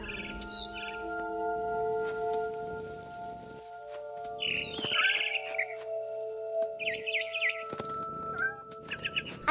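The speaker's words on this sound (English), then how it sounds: "Then I heard chirping outside my window." A barn swallow in What Remains of Edith Finch chirps in bright, scattered bursts near a window, with short pauses between calls and a faint steady tone underneath.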